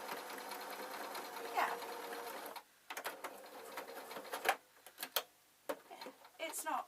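Sewing machine stitching a shortened, double-hemmed fabric girth for a twiddle muffler, running in a fast, even mechanical chatter in several bursts separated by brief pauses, close and clear.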